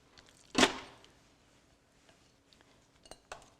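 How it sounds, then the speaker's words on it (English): A utensil scraping bison loaf mixture out of a bowl, marked by one sharp, loud clink against the bowl, then quieter scattered taps and clinks in a mostly quiet kitchen. "I scrape every last bit out of the bowl."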